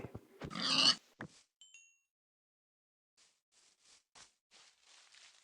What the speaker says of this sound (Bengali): ও, এখানে তো পিগিও দেখছি।